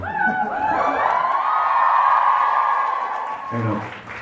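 A big, lively audience at a fan convention cheers, whoops and applauds, building to a loud sustained roar before a brief dip near the end, with shouts rising above the noise.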